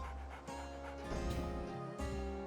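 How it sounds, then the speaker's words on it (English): A dog in the video game Evergrace pants in quick, rhythmic breaths with soft whimpering tones, close and clear over a steady background hum. "Nope, I hear a dog."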